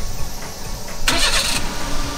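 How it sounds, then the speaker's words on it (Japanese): A car engine cranks and catches about a second in, then runs on steadily over a constant background rumble, with no talking. "エンジンを一回つけます。"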